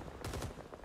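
A brief, fairly quiet rattle of rapid automatic fire in Rising Storm 2: Vietnam, three or four shots in quick succession with fainter echoes trailing off.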